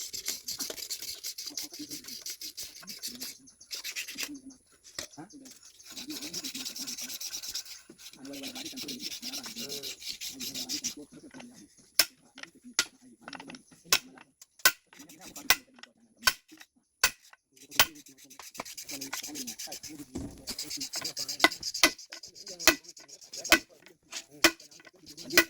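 A lock nut is tightened on an excavator boom and bucket after a seal replacement. Scraping and rubbing of metal come first, then a run of sharp, evenly spaced wrench clicks, close by.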